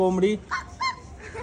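A voice imitates a hen with a few short, high clucking sounds in quick succession, close and clear.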